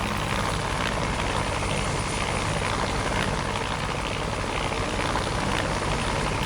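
A Bell 430 helicopter in forward flight, its rotor and engine making a dense, continuous, loud roar heard from inside, steady throughout with no pauses.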